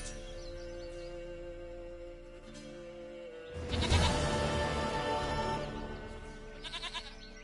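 Goat in The Witcher 3 bleats loudly and close in a wavering call lasting a few seconds, rising out of quiet outdoor game ambience with faint bird sounds.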